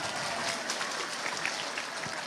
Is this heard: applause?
yes